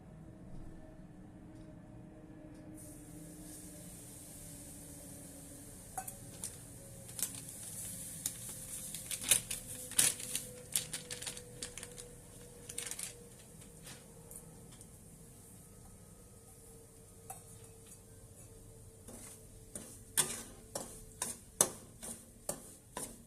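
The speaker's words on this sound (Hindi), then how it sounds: "अब भूनते हैं थोड़ी सूजी।" About 150 grams of semolina dry-roasting in a pan, with soft scattered scrapes and light ticks from stirring over a faint steady background hiss, busier in the middle and again near the end.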